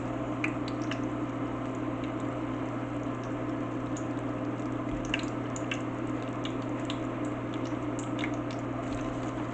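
Battered cauliflower pieces frying in hot oil make a steady, dense sizzle with scattered small pops and crackles throughout, close up and alone.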